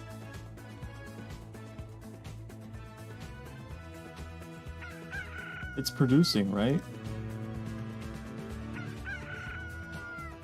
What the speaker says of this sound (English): that's the chicken sound from Zelda